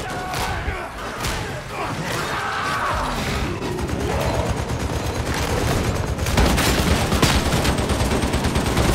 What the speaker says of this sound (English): Because I have this obnoxious cannon.